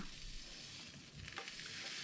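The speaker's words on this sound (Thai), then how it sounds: "ตอนนี้กระทะเราก็ร้อนแล้วนะคะ เราก็จะใส่เห็ดลงไปค่ะ" Mushrooms hiss and crackle in a hot pan for a mushroom sandwich, a steady close sizzle with faint stirring scrapes, no voices.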